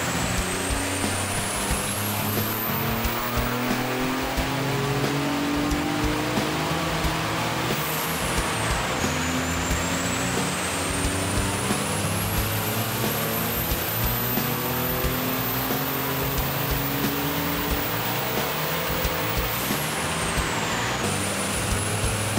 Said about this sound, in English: We're going to go ahead and get this thing on the dyno fast and do the same pulls.